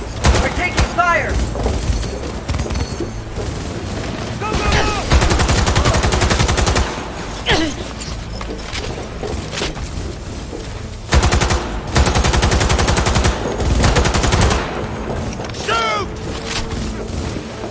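Video game gunfire, loud sustained bursts of automatic fire and sharp shots that keep going throughout, with shouted voices mixed into the battle noise.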